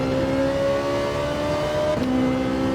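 Race car in Gran Turismo 7 accelerating hard out of a corner, a loud, close engine note climbing steadily in pitch, a brief dip at a gear change, then rising again.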